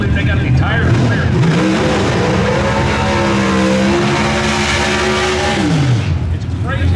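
Loud, close roar of NHRA Pro Stock drag cars at the 2023 Winternationals qualifying, engines climbing through gear shifts as they rip down the track for several seconds, then cutting off, with a commentator talking over the run.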